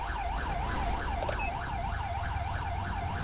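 An ambulance siren in the GTA 5 video game wails steadily up and down in a repeating cycle. It is loud and close, with low engine rumble beneath it.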